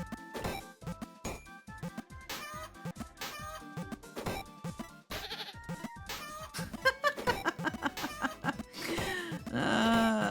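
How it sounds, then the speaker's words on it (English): Goats bleating in a video game, several nasal cries mixed among busy game sound effects and music, loud and close, with chickens being kicked nearby. "I almost chopped the goat."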